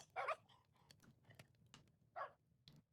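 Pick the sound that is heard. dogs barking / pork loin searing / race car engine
dogs barking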